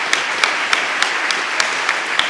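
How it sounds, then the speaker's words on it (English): Audience applause at a startup pitching competition, a steady wash of many hands clapping with sharp individual claps popping out, sustained at even loudness throughout. "Okay. Applause."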